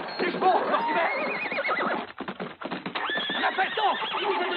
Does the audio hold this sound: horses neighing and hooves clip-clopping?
yes